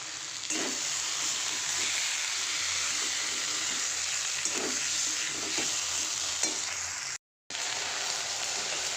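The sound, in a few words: okra with onion and spices frying in pan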